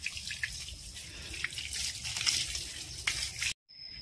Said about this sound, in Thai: คุณลุงก็อาบน้ำให้น้องนินนี่เสร็จแล้ว